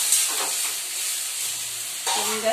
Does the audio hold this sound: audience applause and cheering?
no